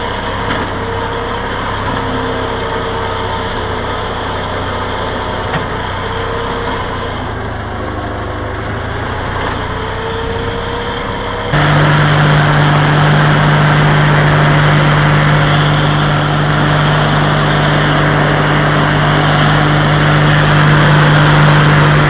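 An old tractor engine runs steadily nearby, a low continuous rumble that turns louder and harsher partway through, with a strong droning tone after the muffler comes off.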